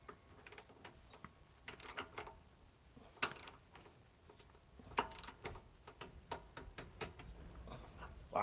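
Torque wrench clicking and ratcheting as lug nuts are cranked down to 120 foot-pounds, faint scattered ticks and clicks in an irregular rhythm against a quiet room.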